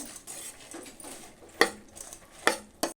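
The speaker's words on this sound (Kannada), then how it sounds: "ಈಗ ಮಿಕ್ಸ್ ಮಾಡ್ಕೋತಾ ಇದ್ದೀನಿ ಎಲ್ಲ ನೀಟಾಗಿ" A spoon scrapes and clinks against a bowl while girmit, a North Karnataka puffed-rice snack, is mixed with coriander and tamarind gojju, soft rustling stirs broken by three sharp metallic taps near the end.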